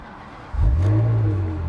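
A Ferrari engine cranks and fires into life, a sudden loud low roar that settles into a steady, strong idle rumble close by, with no talking.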